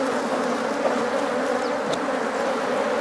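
Honeybees swarm around an opened hive frame while a strong colony is split in two, producing a dense, steady, close buzzing drone with no pauses.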